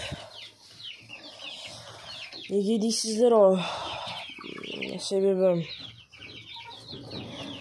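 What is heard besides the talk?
chicks cheeping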